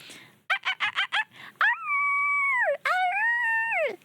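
A person imitates a dog: a quick run of short yips, then two long drawn-out howling barks, loud and close.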